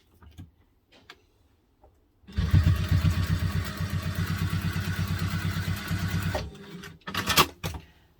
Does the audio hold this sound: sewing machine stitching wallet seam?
yes